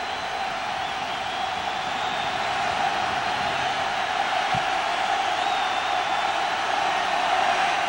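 A college football stadium crowd in a 2003 Oregon State versus Oregon game roars in a steady, dense wall of noise that holds loud and unbroken throughout, with no clear voices standing out.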